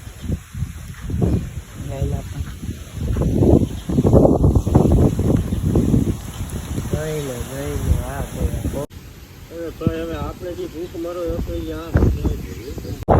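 Wind blusters loudly against the microphone in rough low gusts, easing later as a voice speaks.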